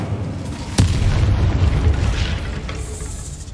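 An Incendio fire spell explosion in Hogwarts Legacy erupts as a sharp boom followed by a sustained roaring rumble that fades over a few seconds, loud and close with no talking.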